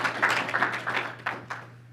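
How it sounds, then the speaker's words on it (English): Meeting attendees at a February 2023 company meeting give a brief round of applause, a light scattered patter of claps from a modest group that fades within two seconds. "give yourselves a big round of applause for that"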